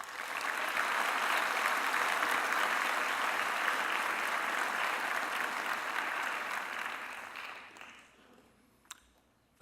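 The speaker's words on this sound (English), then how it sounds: "please give yourself a big round of applause" Broad, steady applause from the graduating crowd at a Mohawk College convocation ceremony, dense clapping filling the hall for several seconds and then thinning out to a few scattered claps and a lone sharp sound.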